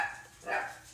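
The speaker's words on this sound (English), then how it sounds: "Okay, well, now she's barking." A female dog lets out one short, muffled bark near the middle, fairly close, with only a faint room murmur around it.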